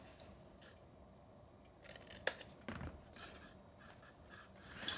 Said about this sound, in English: we're going to miter cut on this little tab